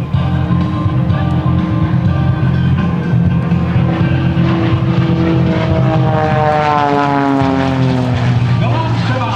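A highly agile composite propeller aerobatic airplane performing tumbles at a Blue Angels homecoming airshow, its engine droning loudly and continuously with pitch sweeping up and down through maneuvers, heard from the ground alongside commentary.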